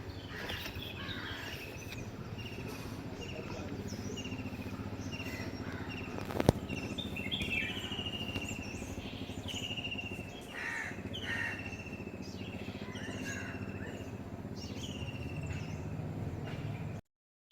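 Crows caw repeatedly in the morning among other birds, moderately distant, over a steady background hum of insects.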